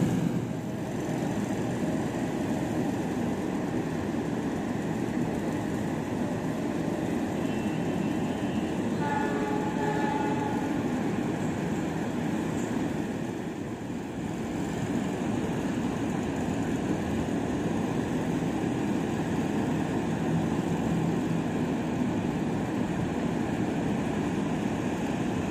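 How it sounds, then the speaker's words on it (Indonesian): Arjuno Express passenger train with a locomotive in special Christmas and New Year livery arriving at a station, a steady loud rumble of rolling cars and engine that continues throughout with a brief dip midway. "itu dia kereta api Arjuno Express dengan lokomotif spesial livery Natal tahun baru"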